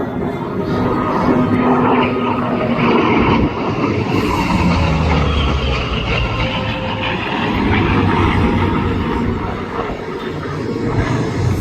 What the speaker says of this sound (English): flying on the wing position formation, our F-18 TAC Demo Super Hornet, flown by Bam Bam and Little Tab